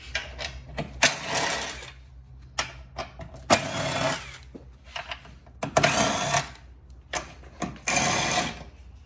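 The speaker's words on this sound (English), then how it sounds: "we've got 4 bolts that take a T27 Torx bit, so we're going to remove those." T27 Torx bolts being driven out of a Fiat 500 Abarth's front end with a power driver, several short whirring bursts separated by pauses, close and fairly loud.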